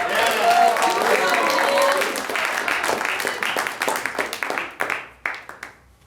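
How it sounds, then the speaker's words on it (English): Audience applause breaking out in a room during a live show, loud dense clapping that thins into scattered individual claps and fades out over several seconds. "Round of applause."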